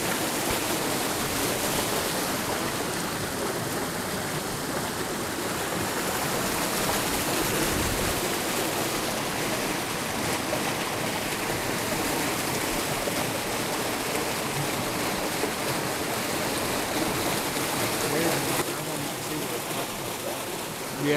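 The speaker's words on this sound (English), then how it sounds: "Hear that water running?" Water running in a stream at night in the woods, a steady broadband rush that stays near and constant throughout with no clear breaks, heard alone.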